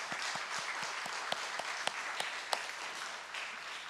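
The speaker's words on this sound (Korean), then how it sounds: "희진자매 박수 한번 하겠습니다." A congregation claps in a church sanctuary for a send-off, a steady patter of many hands with a few louder individual claps standing out, sustained throughout at moderate level.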